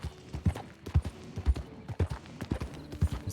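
Horse hooves clip-clop in a steady, evenly paced four-beat rhythm in a Red Dead roleplay video game, close and clear throughout, with no talk over them.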